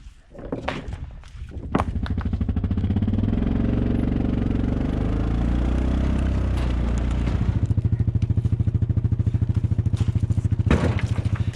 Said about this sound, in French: Le quad c'est pas fait pour tirer un poids déjà aussi important